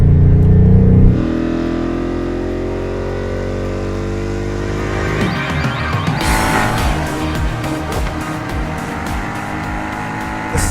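2019 Ford Mustang Bullitt V8 pulling hard at high revs, a loud, continuous engine roar with rising pitch and a gear change partway, heard from inside the car with no talking.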